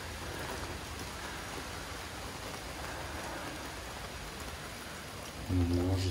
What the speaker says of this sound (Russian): Какой дождик поливает.